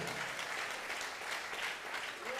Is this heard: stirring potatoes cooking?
no